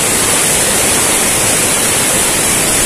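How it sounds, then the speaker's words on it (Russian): The Kedrovka, a turbulent mountain river near Ridder, rushes loudly past rocks. It makes a constant, dense, hissing roar that fills the scene with no pauses. "Шумит сильно река."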